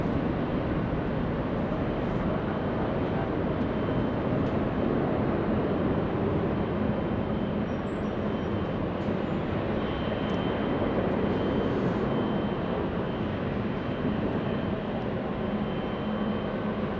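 Airliners at Los Angeles International Airport, including a Level A330-200 lining up for departure, produce a steady broad jet roar that holds at an even level throughout, distant and unbroken.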